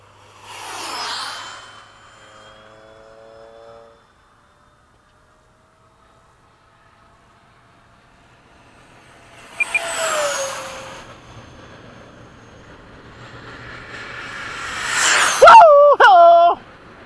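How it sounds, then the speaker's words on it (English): A MiG-21 jet with afterburner lit passes in an evening formation flight at LFE, producing broad roaring whooshes that swell and fade, with a brief voice near the end. "You can see the afterburner now."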